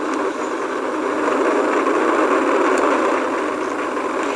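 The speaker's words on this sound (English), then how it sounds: "All 4 RS-25 engines on the core stage and 2 solid rocket" Artemis I rocket launch with four RS-25 core-stage engines and two solid rocket boosters, a loud, continuous broadband roar that holds steady and unbroken without any talk over it.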